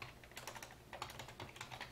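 Someone types on a computer keyboard in quick, uneven bursts of soft clicking keystrokes. The sound is close but very quiet, with no speech.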